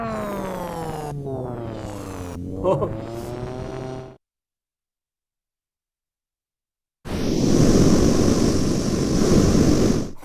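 An ASM Hydrasynth synthesizer sounds a randomly generated patch: a bright, buzzy tone that glides downward for about four seconds, then silence, then a loud, dense, noisy wash that holds steady to the end.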